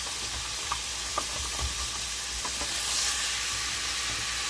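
Venison and vegetables being stirred in a pot of hot oil and seasoning, a steady close sizzle with scattered scraping clicks from the spoon, no voices.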